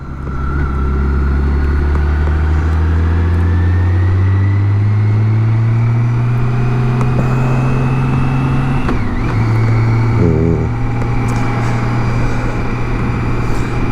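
A BMW K1600 GTL motorcycle rides through a village, its engine droning loud and steady throughout, with pitch shifts as it changes gear and speed, and no voices.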